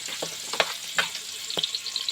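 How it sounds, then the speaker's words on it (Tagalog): Vegetables sizzle in a pan over a wood fire on a farm, with a steady frying hiss broken by a few sharp scraping stirs. "Ginigisa na."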